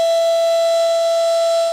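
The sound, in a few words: civil defense alert sirens sounding in a city during floods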